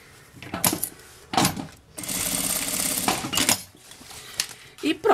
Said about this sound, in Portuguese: essa outra pontinha eu vou costurar no outro pique aqui que eu fiz do outro lado